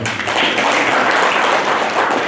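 A crowd applauds in a dense, sustained wash of clapping, loud and steady from start to finish.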